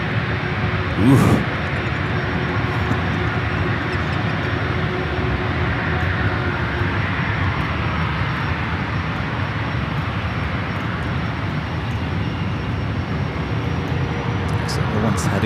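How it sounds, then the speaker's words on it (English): Jet airliner taking off on runway 19 Left at San Francisco International Airport, a broad, steady engine roar sustained throughout at moderate distance, with a brief exclamation from a nearby voice near the start. "Amazing shot of one of these taking off on runway 19er left."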